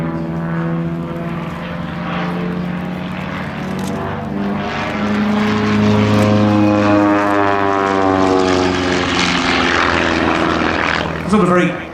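A military jet making a pass at the East Fortune air show, its engine roar building and holding loud with a steady drone and shifting tones throughout, under commentary talk.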